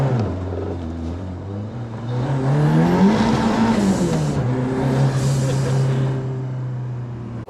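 An old Ford Escort's engine runs steadily and loudly close by, a deep rattly drone with a rising and falling rev around the middle, on slippery roads.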